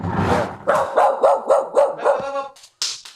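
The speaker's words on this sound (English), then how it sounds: "this dog here is actually the sweetest, kindest dog that we've got" A dog barks and yips in a quick run of about seven close, loud barks, then a short whimper and a final yip.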